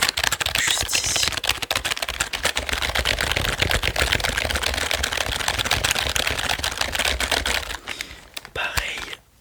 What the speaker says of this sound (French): On est sur un clavier Corsair, très bonne marque, très réputée.